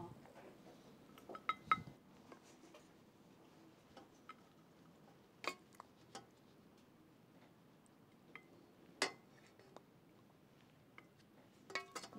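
Rabbit with peppers and onions being served onto a plate: sparse, quiet clinks and ticks of dishes and cutlery, isolated small knocks spaced irregularly in a near-silent room.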